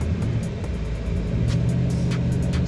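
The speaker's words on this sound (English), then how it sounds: "Smooth acceleration, nice torque." A 2004 Dodge Ram 1500 SLT pickup with a 5.7L Magnum Hemi V8 accelerates, giving a steady, continuous low engine rumble from close by with no speech over it.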